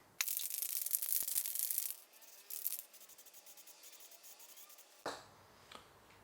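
A burr being filed off a metal trailer light mount for a Rav4 before painting, a short close rasping rub for about two seconds, then quieter scrapes and taps.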